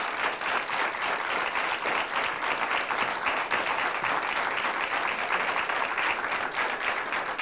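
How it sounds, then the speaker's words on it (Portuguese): A studio audience at a Portuguese afternoon TV talk show applauds in a dense, even roar of clapping that holds steady for over seven seconds, with no talking over it. "Já agora quero pedir à nossa plateia um aplauso para a coragem destas duas mulheres."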